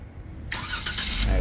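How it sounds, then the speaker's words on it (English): A 2022 Jeep Wrangler Unlimited High Altitude starts by remote start, the engine catching suddenly after a brief quiet moment and settling into a steady close rumble outdoors. "press and hold this, and the vehicle should eventually fire up for us"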